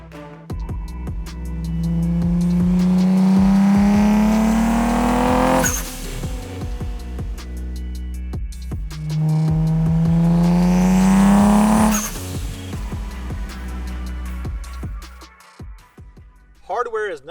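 A Nissan Z with upgraded turbos, port injection and full aftermarket exhaust revs hard twice, each pull rising to a loud, raspy peak before cutting off, close up.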